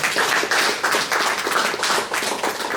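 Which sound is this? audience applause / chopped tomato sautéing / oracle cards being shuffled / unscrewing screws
audience applause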